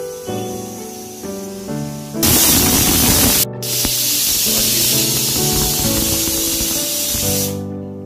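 A kitchen pressure cooker cooking dal palak on a gas stove lets out its fifth whistle: a loud, sustained hiss of escaping steam that cuts in abruptly over a tonal background, breaks briefly, then continues before stopping.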